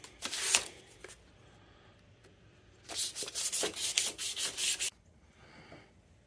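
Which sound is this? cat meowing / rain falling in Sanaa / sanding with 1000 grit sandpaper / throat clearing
sanding with 1000 grit sandpaper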